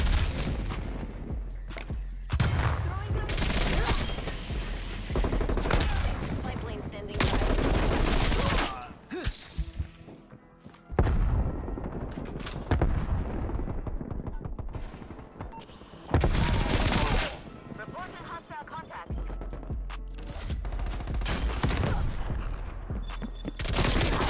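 Rapid bursts of Tech 9 submachine gunfire in the video game Call of Duty Cold War, loud and dense, arriving in several long volleys separated by brief quieter gaps.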